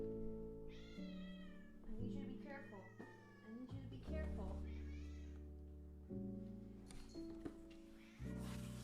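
A pet cat behind a desk chair meows several times, with drawn-out, wavering cries that overlap someone talking to it in a small room.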